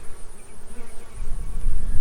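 Honey bees buzz at an open hive, a dense close drone with a steady hum, swelling louder toward the end, with no voices.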